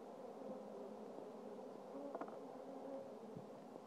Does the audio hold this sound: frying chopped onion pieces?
no